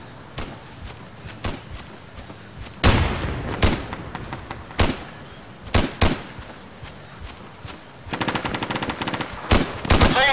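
Gunfire in the video game Insurgency: loud rapid automatic bursts and single shots crack out repeatedly at varying distances, with a dense rattling volley near the end.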